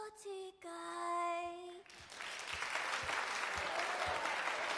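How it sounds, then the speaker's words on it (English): An audience breaks into applause at a cartoon show, a dense burst of clapping that swells in after a brief sung or tonal note and holds steady and fairly loud to the end. "Give her another round of applause, ladies and gentlemen."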